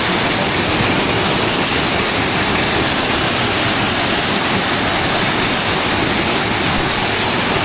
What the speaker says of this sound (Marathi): हा एवढा जोरात पाणी चाललाय नदीला. हा धबधबा आहे छोटासा